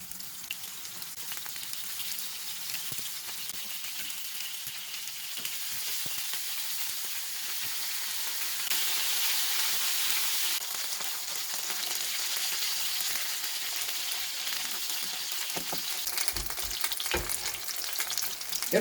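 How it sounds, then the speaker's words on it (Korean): Dried pollock pan-fries in a generous amount of cooking oil, a continuous bright sizzle and crackle that swells midway, with occasional light stirring and scraping sounds and no talking. "이렇게 항태를 튀기듯이 살짝 구워주시면 됩니다."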